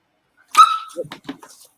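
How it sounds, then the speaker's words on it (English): A Labrador and a Great Dane puppy let out a sharp close bark that trails into short whimpers and small yips, all within about a second, with no talk over them. "See, here's the doggos."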